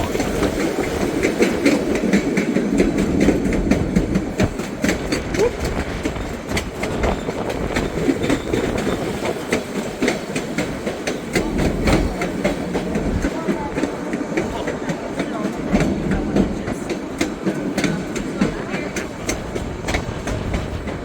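Rail cars roll along the track on a passenger train ride, with a constant loud rumble and rapid irregular clattering and clicking of wheels over the rails, heard from on board.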